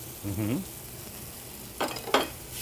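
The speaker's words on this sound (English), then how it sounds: "get a little heat there. And I'm going to go in with our crab meat" Crab meat, claw and jumbo lump, frying in a hot restaurant pan, a soft steady sizzle with a brief murmur of voice early and a couple of louder scraping stirs near the end.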